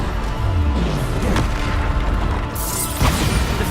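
A Bombarda spell explodes in Hogwarts Legacy with a loud, deep boom and crashing burst, followed by a second sharp impact near the end amid continuous game combat noise.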